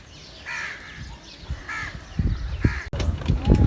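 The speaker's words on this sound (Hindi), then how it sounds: "देखें यहाँ इन लोगों के खाने सारे कौवे आके खा रहे हैं हर जगह से" Crows cawing at a zoo in Karachi, a few harsh calls spaced through the clip, with a mix of nearby crowd noise and bumps beneath them.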